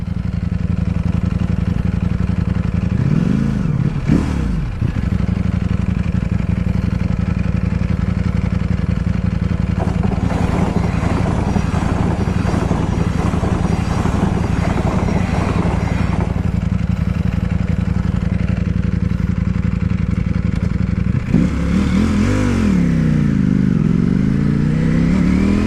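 A Ducati Panigale V4 S sport bike rides along a public road, its engine droning loudly and steadily with wind roar. Several rising and falling revs mark throttle changes and gearshifts.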